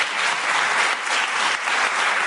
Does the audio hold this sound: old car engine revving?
no